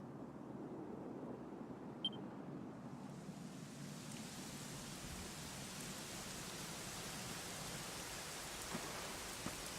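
Steady rain in Dragon Quest XI hisses evenly, growing broader and brighter partway through, with a faint distant rumble underneath and no voices.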